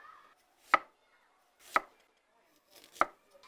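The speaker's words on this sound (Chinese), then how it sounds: "鸡肉斩块，下锅煸炒" A cleaver chops an old hen into pieces on a board with three sharp, isolated whacks about a second apart, close and clear against a quiet kitchen.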